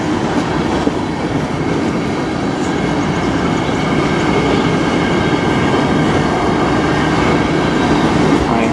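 A CN train in Sarnia, Ontario rolls steadily and loudly into a rail yard at reduced speed, its cars giving a continuous rumble with faint wheel clatter and occasional squeal, close by and with no talk.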